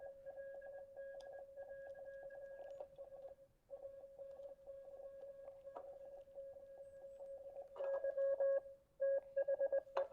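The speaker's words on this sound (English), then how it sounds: "Some Morse code." Electronic Morse-code-style beeps from a Ghostbusters PKE meter toy: a steady run of short, rapid tones with brief pauses, then louder choppy bursts near the end, with no talk.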